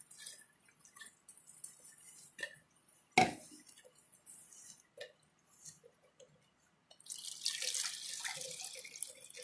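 Hot water from a tap runs into a measuring cup for a steel-etching mix: scattered drips and clinks come first, then a steady, fairly loud rush of pouring water over the last couple of seconds.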